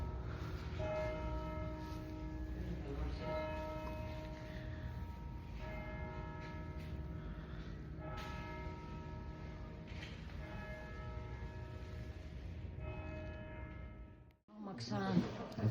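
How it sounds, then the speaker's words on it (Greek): A church bell rings on and on in a church in Thessaloniki, its sustained tones layered and steady, with voices murmuring beneath before a brief pause near the end. "Ακούγεται η καμπάνα."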